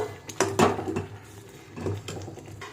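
A spoon clinks and scrapes in a bowl as chili powder and cumin powder are mixed for a Bengali-style chutney, producing a few soft, close knocks and brief rubbing sounds.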